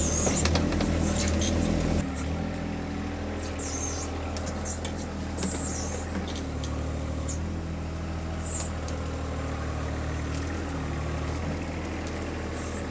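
A tractor engine runs steadily while it breaks tree roots in a land-clearing job, with a deep continuous drone and some scraping and creaking on top throughout.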